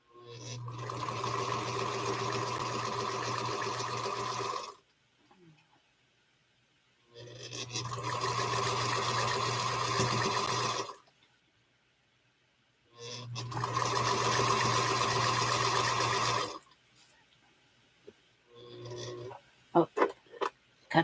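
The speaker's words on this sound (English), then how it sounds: "And I'll sew this onto the next strip set of 2." A sewing machine stitches quilt strips made of 2.5-inch fabric strips in three steady, whirring bursts of several seconds each, separated by short pauses, with a few small handling clicks and rustles at the end.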